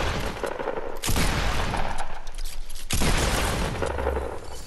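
Assault rifle gunfire in the Fortnite video game, two long bursts of rapid automatic shots separated by a brief pause, loud and close against game ambience.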